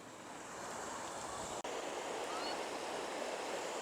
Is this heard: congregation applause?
no